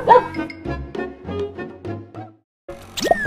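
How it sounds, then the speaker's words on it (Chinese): A large yellow dog, recently neutered, gives a rapid series of barks and yips close by, then falls silent briefly before a short whine or yelp. "还乱叫，快滚回去。"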